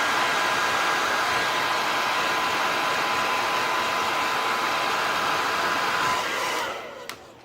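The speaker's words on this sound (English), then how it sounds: "Okay, let's do the hair dryer." A hair dryer is used to dry a painted miniature. It blows a loud, steady whooshing roar with a faint whine, held close to the microphone, then winds down and stops near the end.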